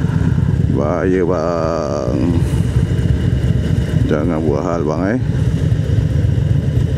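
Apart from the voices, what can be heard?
Harley-Davidson Road Glide motorcycle engine riding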